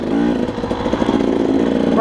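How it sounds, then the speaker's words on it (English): A two-stroke dirt bike rides a mountain trail, its engine droning loud and close with a buzzy, steady tone and slight wavering in pitch throughout. "riding a 2-stroke with no engine braking"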